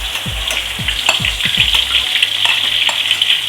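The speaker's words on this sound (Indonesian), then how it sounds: "yang pertama kita goreng bawangnya ya, minyak secukupnya. Oke, kita goreng. Ini minyaknya sudah panas." Onions frying in hot oil for Batak mie gomak, a loud steady sizzle with a few stirring scrapes near the start, no talk.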